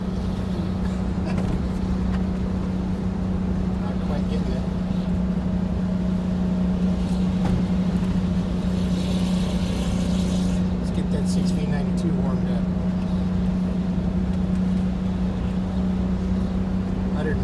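A bus engine labors steadily uphill after a downshift on a cold day, a constant low drone with a steady hum running throughout while a person talks over it.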